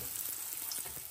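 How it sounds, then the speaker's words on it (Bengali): Garlic cloves frying in oil tempered with nigella seeds give a steady, soft sizzle with faint crackles throughout, close and continuous, no voices. "এখন এই কালিজিরা ফোড়নের মধ্যেই আমি রসুনগুলা ছেড়ে দেব, দিয়ে একটু হালকা করে ভেজে নেব।"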